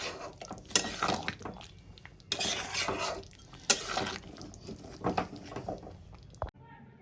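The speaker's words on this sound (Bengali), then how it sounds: "এবার আমি একটা পাত্রে ঢেলে নেব।" Cooked chicken patiyali scraped and poured from a pan into a bowl, with clinks of a spoon on metal, wet sliding thuds and a few sharp scrapes in uneven bursts, while a person talks.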